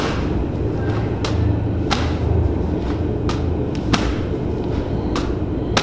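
Medicine ball slammed against a wall during a CrossFit wall-ball workout, a sharp thump recurring roughly every second over a steady low rumble of background noise.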